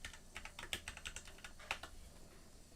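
Quiet clatter of fingers typing on a computer keyboard, a quick irregular run of light key clicks with a few sharper taps, heard alone and close.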